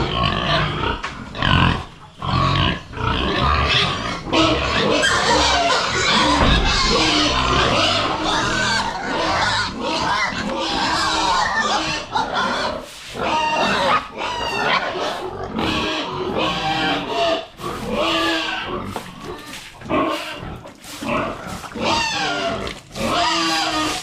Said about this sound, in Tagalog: Yung mga baboy natin mga kaprobinsya